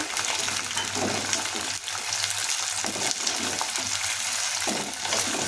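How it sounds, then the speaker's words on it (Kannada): Soaked peas and onion fry in a pan for an aloo rice bath, a steady close sizzle with a low hum and occasional scraping stirs, no voices. "ನೆನೆಸ್ಕೊಂಡಿರುವಂತಹ ಬಟಾಣಿನ ಸೇರಿಸಿ ಇದನ್ನು ಸಹ ಅರ್ಧ ನಿಮಿಷ ಫ್ರೈ ಮಾಡಬೇಕಾಗುತ್ತೆ"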